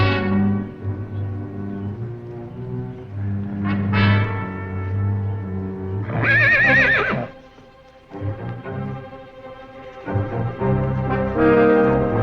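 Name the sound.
horses whinnying and hooves clip-clopping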